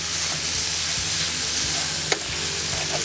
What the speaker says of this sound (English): You add the cellophane noodles. Lower the heat a little bit. Stir.